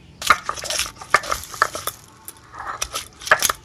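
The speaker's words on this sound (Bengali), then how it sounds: "তিনটা লঙ্কা নিয়ে নিয়েছি, এটা বেটে নেব।" Three homegrown green chillies are ground into a paste, giving a close run of irregular scraping, rubbing and tapping strokes in uneven bursts, with no talking.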